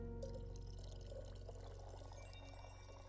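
Liquid poured into a brew in a video game, a soft steady trickle running for a few seconds beneath sustained tonal game music.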